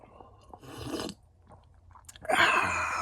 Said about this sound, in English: I thought you guys would enjoy the sound of a good slurp.